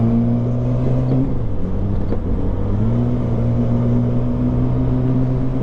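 Engines idle and rumble in road traffic heard from a motorcycle, a steady close drone whose pitch shifts slightly as vehicles ease forward, with no talking.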